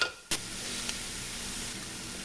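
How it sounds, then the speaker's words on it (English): Chopped onions sizzle steadily in a pot as they are stirred for a Cajun-style seafood creole. A bright, continuous frying hiss is interrupted by one brief scrape early on, and no one speaks. "I'ma just stir this, let this cook down for a little bit."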